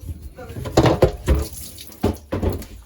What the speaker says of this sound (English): Hear that water though? Yeah, it's running out.